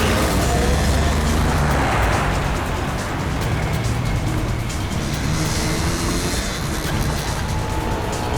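A car drives past on a road, loud and steady throughout with a broad engine and tyre roar, no talk over it.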